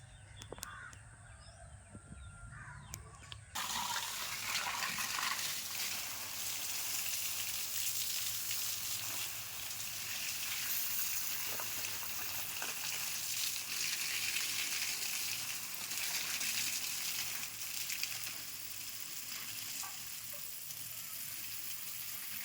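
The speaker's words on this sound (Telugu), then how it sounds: "నీళ్ళు పడుతున్నానండి మొక్కలకి" A steady hiss of water sprays onto butterfly pea plants for a long stretch, while a crow caws now and then in the background.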